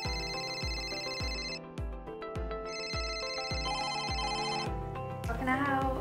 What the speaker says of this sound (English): the phone just never stops ringing